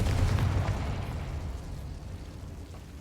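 Fire spell explosion from the Hogwarts Legacy video game: a deep, booming low-end blast that hits loud at once and then rumbles and fades slowly over a few seconds, with no voices over it.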